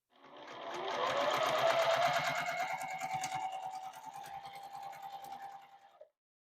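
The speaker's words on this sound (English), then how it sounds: "take it to our sewing machine and do a 1/4 inch seam right up through here." A sewing machine stitches a quarter-inch seam on a log cabin quilt block, its rapid mechanical stitching rhythm ramping up, holding, then stopping abruptly.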